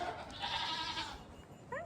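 Plum, a sociable and friendly goat, gives a single drawn-out bleat at close range on a farm. A short higher cry follows near the end.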